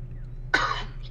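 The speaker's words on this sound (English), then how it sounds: "I don't know why I've been coughing so much." A single short, rough cough against a low steady hum indoors during a gaming session.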